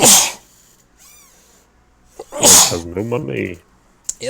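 A sharp, explosive sneeze bursts out at the start, close and loud, followed by quieter breathing and someone talking.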